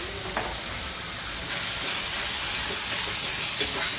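Curry leaves dropped into hot oil for a Marathi-style fish curry give a steady close sizzle and hiss with faint stirring clicks throughout, no talking.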